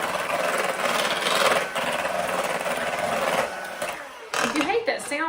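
An electric hand mixer with metal beaters whirring through pumpkin bread batter, a loud steady motor buzz that cuts off near the end, followed by a few clattering knocks.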